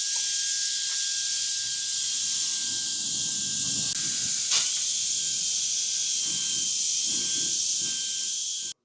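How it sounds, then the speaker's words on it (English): A cordless electric brushless air duster blows steadily through an open-end nozzle, a loud continuous high-pitched hiss held for about nine seconds with slight surges, then cutting off abruptly. "simply cleaning up the area with the open end nozzle"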